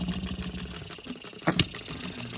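A small OKMO B02 engine idles smoothly, a fast steady mechanical chatter at close range, with a couple of louder knocks near the end.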